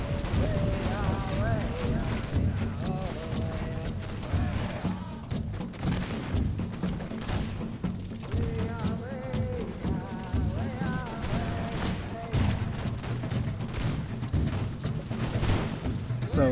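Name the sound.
musket volley fire in Empire Total War video game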